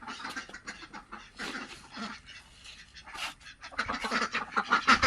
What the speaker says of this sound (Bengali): হাঁসগুলো সব পুকুরে ছিল পুকুর থেকে চলে এসছে বাড়িতে খাওয়ার জন্য